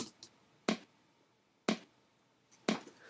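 A dry snare drum sample from an electronic music track hits three times at an even, moderate pace, each stroke short and crisp with a faint quieter tick between some hits.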